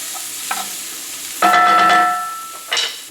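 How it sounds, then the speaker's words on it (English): Onions sautéing in olive oil in a pan, a soft steady sizzle broken by a few scraping stirs and a brief bright clatter of the utensil, close and without talk. "Now we're going to cook these onions just until they're translucent."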